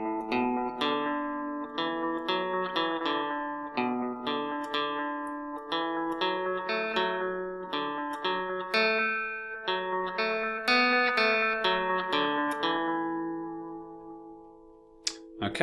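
An electric guitar plays a clean, steady melodic passage, the notes picked one after another with light effects, ringing out alone and fading at the end.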